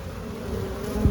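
Honeybees in a busy, crowded hive give a dense, continuous close buzz, brief and steady with a slight swell at the end.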